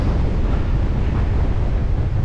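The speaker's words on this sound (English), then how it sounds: "I'm about to head on a very long downhill stretch full on into the wind" Strong storm headwind roars over the microphone as a cyclist descends a long downhill stretch, a loud, continuous rumbling buffet with no talk.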